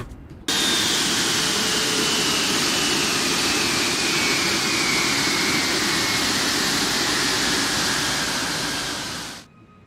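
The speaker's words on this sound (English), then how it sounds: "And let's turn off the engines." Airbus A350 jet engines spooling down at shutdown in the X-Plane 12 flight simulator: a loud, steady broadband roar with a slowly falling whine that holds for several seconds, then drops away abruptly into near silence.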